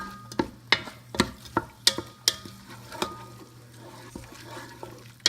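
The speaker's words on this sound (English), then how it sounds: "I need to get our old wooden spoon and just start getting the oil all over those onions." An old wooden spoon clacks and scrapes against a pan at a loose rhythm as onions fry in oil, with a soft sizzle underneath and no voices.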